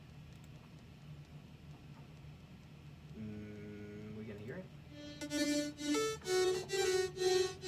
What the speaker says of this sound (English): Another serum patch, and this one sounds like this.